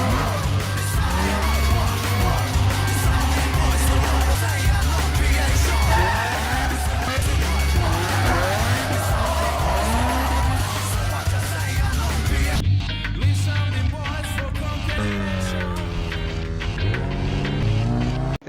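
An orange Mazda RX-7 drifts through a Tokyo street-racing film scene, with loud, continuous tire squeal and engine roar that run unbroken for about eighteen seconds and shift in tone near the end.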